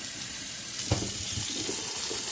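Ingredients being rinsed under a running kitchen tap, a soft steady water stream with a brief splash partway through, fairly faint and with no talk.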